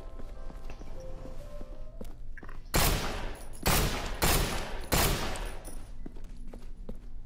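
A run of loud gunshots in the zombie video game No More Room In Hell, four or five sharp booming blasts fired in quick succession after a quiet stretch of faint in-game sounds.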